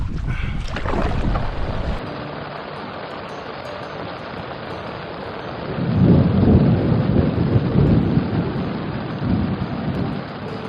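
Rolling thunder booms twice over steady rain during a backcountry canoe trip in Wabakimi, the first clap loud at the start and a second deep rumble building midway, with no voices.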